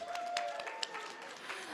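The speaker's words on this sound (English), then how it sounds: "Let's give them a round of applause." Faint, steady clapping from an audience honoring graduates at an education pinning ceremony, with crowd noise and a few voices blended into the applause.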